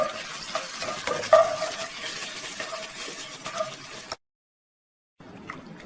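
Turmeric powder stirred through a pan with the stove turned off, a busy scraping and sizzling clatter of spoon against metal, close and fairly loud, stopping abruptly before a brief resumption.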